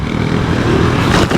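Husqvarna 701 or GasGas 700 motorcycle engine on a smooth, narrow road, a brief rough engine drone with a short dip and surge as it shifts up, close and loud.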